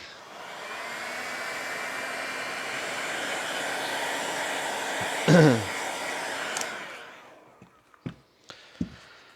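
A dryer blows steadily and loudly up close for about six seconds to quickly dry a surface, then cuts off, leaving a few faint knocks and handling sounds.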